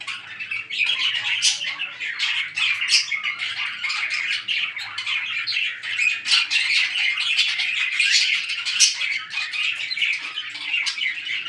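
Pet budgies and cockatiels in an indoor home bird setup squawk and chirp in a dense, continuous chatter, loud and near, with no one speaking.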